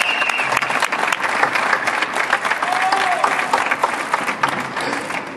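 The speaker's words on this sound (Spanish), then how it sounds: "Un fuerte aplauso." A crowd applauds the national Forza Motorsport 4 Xbox 360 tournament champion at a 2012 awards ceremony, dense steady clapping filling the room with a faint whistle-like tone rising midway, sustained throughout.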